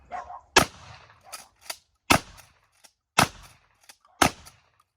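An Ithaca Model 37 shotgun fires four loud, sharp shots at roughly one-second intervals outdoors, each with a short echoing tail. Faint clicks and handling sounds fall between the shots, and nobody speaks.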